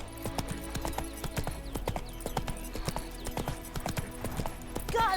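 The horse Roach gallops in The Witcher 3 with quick, rhythmic hoofbeats close by at a moderate level, and a brief whinny-like sound rises at the end.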